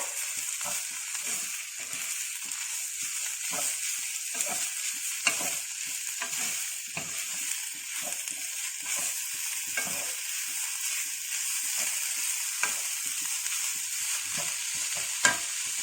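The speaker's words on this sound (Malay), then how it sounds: "Jadi kita akan goreng sampai dia jadi kering ya." Steady sizzling of shredded shark fish frying in a pan until dry, with repeated scraping and stirring strokes throughout, close by and moderately loud.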